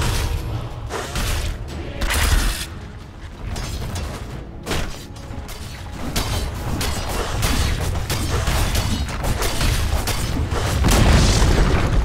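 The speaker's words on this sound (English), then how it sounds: "Dire's bottom tower has fallen." A Dota 2 tower collapses amid loud in-game booms and crashing, with a dense run of mechanical impacts, creaks and rattling blasts that keep up without a break and build toward a heavy rumble at the end.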